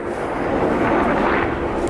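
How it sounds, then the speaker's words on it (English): Loud, steady rotor and engine roar of a helicopter passing close overhead, filling the whole clip with broad rumbling noise. "Damn helicopter."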